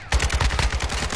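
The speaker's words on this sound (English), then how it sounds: "I'm getting shot in the back." Rapid automatic gunfire in a shooter video game, a loud burst of about ten quick evenly spaced shots filling just over a second.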